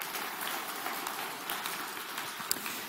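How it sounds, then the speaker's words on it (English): An audience applauds at the DevOpsCon 2015 keynote, a dense, steady wash of clapping that carries evenly through the whole stretch with no talking over it. "give Mark a round of applause"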